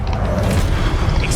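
A short, heavy boom from a Confringo fire spell bursts loud and close in a Hogwarts Legacy battle, filling the brief moment with a dense, rumbling blast.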